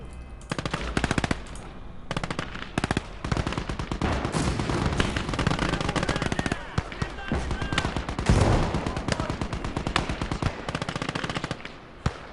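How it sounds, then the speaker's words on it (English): A World War II battle in the video game Call to Arms: Gates of Hell on the Eastern Front, with nearly continuous rapid machine-gun and rifle fire and a heavier artillery blast booming through the middle. "Probably a bit premature with that artillery"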